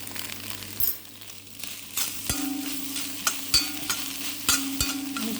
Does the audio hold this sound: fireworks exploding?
no